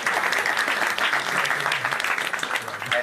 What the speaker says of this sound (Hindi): ताली हो जाओ दीदी के